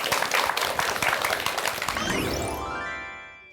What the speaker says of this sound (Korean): 여러분 큰 박수로 강연 청해 듣겠습니다.